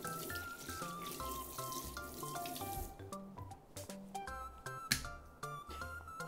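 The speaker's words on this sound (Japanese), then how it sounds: "じゃあこちらきゅうりをね 洗いましょう。" Tap water runs steadily into a kitchen sink while a cucumber is rinsed by hand, with soft splashing and trickling close by and faint background music.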